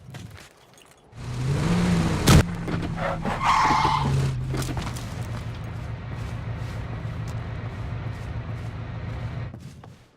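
A car in the battle-royale game PUBG drives off with a steady engine drone, tires skidding loudly near the start and then sliding and revving on for several seconds before cutting off.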